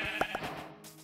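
A Minecraft sheep gives a short wavering bleat, two quick pulses close together, standing clear over soft game ambience.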